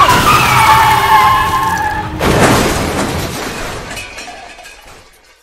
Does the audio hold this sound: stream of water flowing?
no